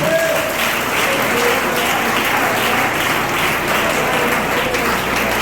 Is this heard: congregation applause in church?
yes